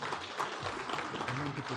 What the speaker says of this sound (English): another big round of applause for them